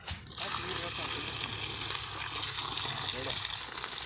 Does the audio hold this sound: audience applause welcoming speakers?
no